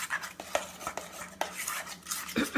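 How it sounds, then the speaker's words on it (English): Thick keto muffin batter being stirred in a bowl, close-up scraping and clinking of a utensil against the bowl in uneven strokes, with sharp taps between them. "So then again, we're going to stir."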